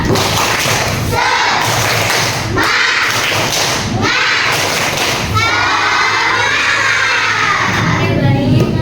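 Classroom of children performing a rhythmic clapping chant, loud claps and thumps in bursts mixed with shouting young voices, filling the room throughout.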